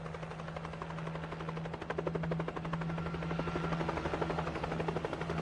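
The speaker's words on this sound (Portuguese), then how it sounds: "helicóptero." Over Italy, a helicopter roars with steady rapid rotor chopping and a constant engine drone, loud and sustained throughout.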